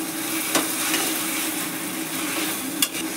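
Taro leaves (kochu shak) cooked with a hilsa fish head sizzle steadily in an oily pan, and a couple of sharp scraping strokes come through as the mixture is stirred, close and continuous.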